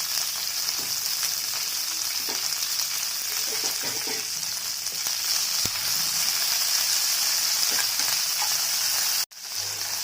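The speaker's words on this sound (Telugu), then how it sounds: "తాలింపు వేగిపోయింది." Tempering spices and curry leaves fry in oil for ivy gourd chutney with a continuous close sizzle and scattered crackles, steady throughout until a sudden brief cut near the end.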